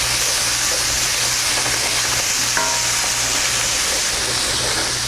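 Mapo tofu ingredients frying in a pan with red pepper flakes and fermented black beans, giving a loud, steady, close sizzle with hiss that continues throughout.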